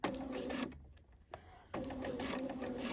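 A sewing machine stitches the collar of a top, a close steady whirring run that stops briefly partway through and then starts again.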